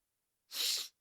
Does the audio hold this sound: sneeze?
yes